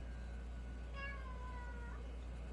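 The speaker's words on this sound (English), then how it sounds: "this is my cat, Jimmy" A house cat gives a single short, faint meow in a quiet indoor room over a low steady hum.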